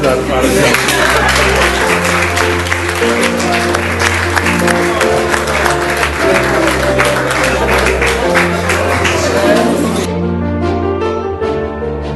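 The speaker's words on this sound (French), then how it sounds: "Est-ce qu'on peut applaudir Méliane encore?" Audience at a literary gathering applauds steadily and loudly for about ten seconds, with dense clapping that then stops abruptly, leaving a brief quiet tail.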